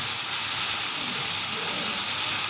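Chopped tomatoes go into a pan of cooking chicken curry and sizzle with a steady, close, hissing fry that keeps an even loudness throughout.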